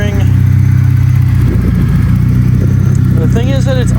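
A BMW M42 four-cylinder engine idles steadily and loudly up close after a long crank, its even low hum continuing while someone talks over it.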